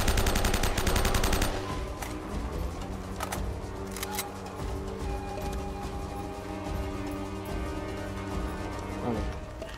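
Enemy gunfire in Uncharted: Drake's Fortune, a loud burst of rapid automatic shots up front, then scattered cracks and impacts over a steady game music bed.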